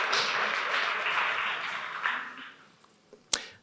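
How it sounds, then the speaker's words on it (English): Conference audience applauding a speaker as he takes the stage: a broad wash of steady clapping that tapers off over a few seconds, ending with a couple of isolated claps and one sharp knock. "Another round of applause."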